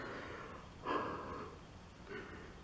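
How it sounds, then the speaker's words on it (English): A person yawning close to the mic: one drawn-out, breathy exhale that swells and fades over about half a second, followed by a softer breathy tail, with no words. "oh, I'm so sorry for yawning"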